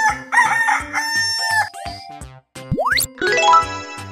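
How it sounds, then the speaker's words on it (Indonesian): A rooster crows loudly in a drawn-out cock-a-doodle-doo at the start, set against cheerful children's music. A rising slide-whistle sweep and other cartoon effects follow. "Ayam."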